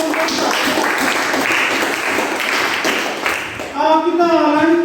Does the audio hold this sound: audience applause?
yes